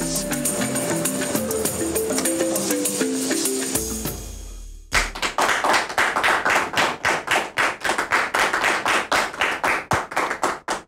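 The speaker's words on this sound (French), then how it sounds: "La marque déposée de cette émission, c'est justement les applaudissements que vous entendez juste après le générique" A studio audience on a French-language talk show claps right after the opening theme music fades, breaking into loud, regular rhythmic claps in unison that continue steadily to the end.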